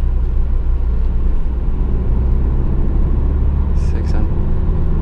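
A Ford Focus 1.6 TDCi with 163,000 km pulls hard at full throttle in fourth gear, giving a loud, steady, low diesel drone with road rumble throughout and talk faintly present.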